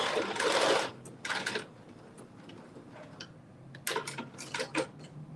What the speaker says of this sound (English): And do a little back stitch.